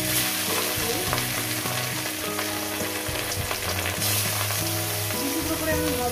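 Pieces of katla fish fry in hot oil, giving a loud, dense, continuous sizzle close up with no letup. A low tonal hum and faint, brief background voices run beneath it.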